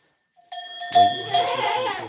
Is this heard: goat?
yes